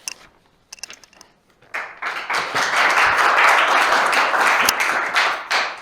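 An audience at an evening freshwater-mussel conservation talk bursts into sustained, dense clapping after a few scattered early claps, staying loud and even until the end.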